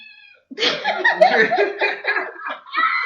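A cat lets out a long, drawn-out meow that wavers and rises, close by, followed by a shorter trailing cry.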